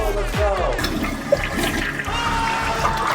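Cartoonish toilet flush in a water park building video game, a swirling watery whoosh that fills the clip at steady loudness after a brief low thump at the start.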